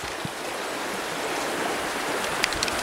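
A river running high with snowmelt, rushing steadily and close by in a woodland, a continuous broadband wash with no one speaking.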